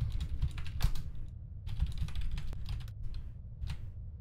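Someone types on a computer keyboard in quick, uneven bursts of clattering keystrokes, close by, with short pauses between runs and no talking.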